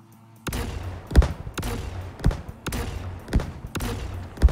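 Five uncharged railgun shots in the space game Star Citizen, fired with shields on under combat conditions, land as loud, sharp, evenly spaced booms with short rumbling tails and no talk over them.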